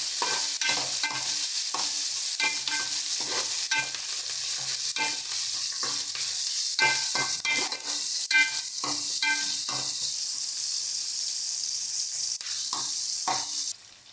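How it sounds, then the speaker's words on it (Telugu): Onions, garlic cloves and green chillies fry in a pan, giving a steady loud sizzle for the whole stretch, broken by repeated scraping stirs and light clinks of a spoon. "వీటిని బ్రౌన్గా ఫ్రై చేసుకోవాలి."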